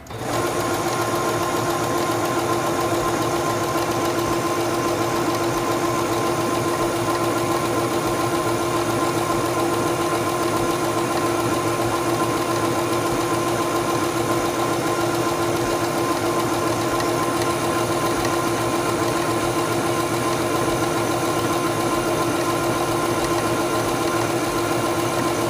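A Singer 7258 computerized sewing machine stitching fabric, a loud, continuous mechanical whir and rapid ticking hum held steady and alone at close range throughout.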